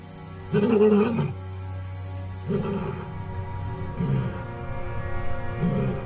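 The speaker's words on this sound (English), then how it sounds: "With her frail roaring, she is trying to reach her daughters." An old, weakened lioness roars frailly in the desert, calling after her pride: several low, hoarse moaning roars spaced a second or two apart, moderately loud and carrying over open ground.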